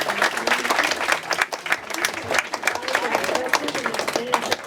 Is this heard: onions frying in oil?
no